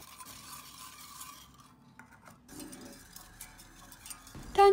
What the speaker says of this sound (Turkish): Pişirmeden önce şöyle bir karıştıralım